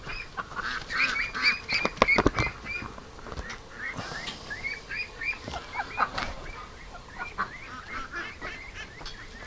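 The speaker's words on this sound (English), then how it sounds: "What a busy bunch of ducks." A crowd of ducks and geese honk and quack busily close by, overlapping calls in a noisy flock with scattered thumps and rustling.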